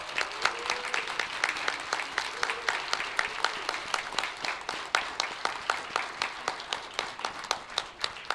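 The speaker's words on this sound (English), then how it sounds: "I'd like you to all stand and would like to applaud you" An audience at a graduation service applauds the graduates, a steady patter of many hands clapping at moderate distance, fairly soft and continuous for several seconds.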